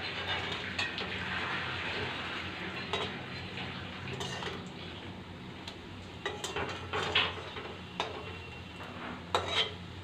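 Lentil fritters (dal bora) fry in a pan over a medium flame, giving a steady, soft sizzle with scattered metallic clinks and taps from a utensil. No one speaks.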